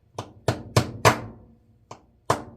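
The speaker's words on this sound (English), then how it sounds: "I'm using the brass end of the hammer and just tapping it down." Brass end of a hammer tapping down a bearing cover on a Penn 970/980/990 Mag Power fishing reel, six sharp close metallic taps in an uneven rhythm, the fourth ringing slightly longer.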